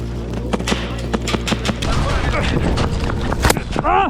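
Airsoft guns fire a rapid series of sharp cracks into the windows and doors of an old Soviet border guard outpost, some shots overlapping. The shots are close and loud, with a voice heard near the end.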